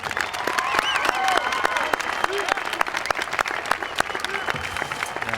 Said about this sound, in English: This time, let's give them a big round of applause.